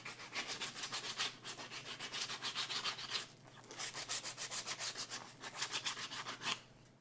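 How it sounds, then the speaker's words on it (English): Sandpaper smooths the cut edges of a shell by hand, giving rapid, rhythmic rasping strokes close by, with a brief pause midway before the scrubbing resumes. "for example, using sandpaper."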